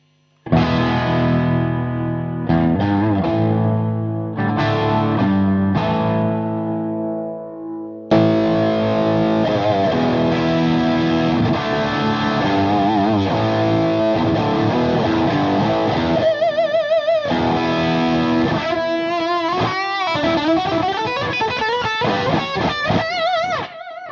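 Electric guitar through a Marshall Plexi amp with the volume pot at halfway, crunchy distorted chords ringing out loud, then sustained riffs and bending lead notes, close and alone.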